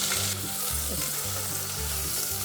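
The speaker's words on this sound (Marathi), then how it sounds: "तेल तापलं की त्याच्यात आपण मोहरी थोडेसे जिरे कढीपत्ता बारीक चिरलेला लसूण साधारण वाटीवर बारीक चिरलेले कांदे" Mustard seeds, cumin, curry leaves, chopped garlic and finely chopped onions fry in hot oil, giving a steady, close sizzle with a low hum underneath and no talking.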